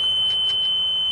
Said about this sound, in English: Oh, it's beeping and telling us we have low fuel